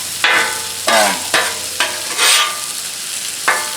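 Thin-sliced, oiled zucchini hits a hot Blackstone griddle, with a steady sizzle broken by several sharp bursts of stirring and scraping, spaced irregularly and heard up close.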